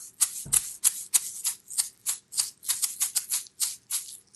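A small homemade egg shaker, taped shut, rattles in quick rhythmic bursts, its bright gritty swish repeating steadily and close by, with no voices.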